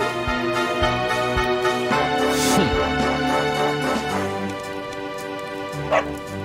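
Small dog from Dragon Quest XI letting out a burst of yappy barks and whimpering yips over game music, close and lively, with a brief cry near the end.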